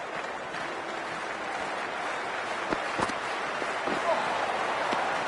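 Stadium crowd noise in the cricket video game Cricket 24, a steady broad roar of cheering and applause that holds evenly throughout, with a few slightly louder swells near the end.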